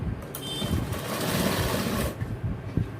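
Sewing machine stitching trouser lining, a close, loud steady motor whir with rapid needle clatter for about two seconds, then slowing and easing off into quieter handling.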